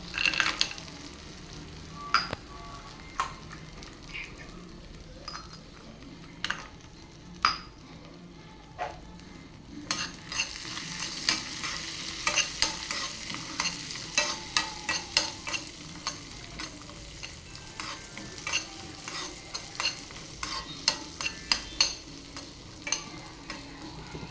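Cashews fry in a pan for a palak khichdi tempering while a spoon stirs and scrapes. The sizzle is quiet and steady, with sharp clinks against the pan that grow busier partway through.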